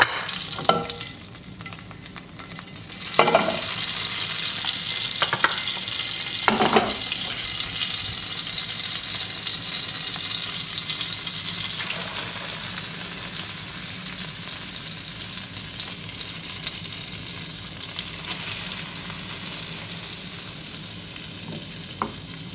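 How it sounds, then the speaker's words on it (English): Chicken breast frying in a frying pan gives a steady, loud sizzle throughout, with a few sharper clattering bursts near the start. "Now I'll take this chicken, because I only have 1 chicken breast left. I'll place it in my frying pan."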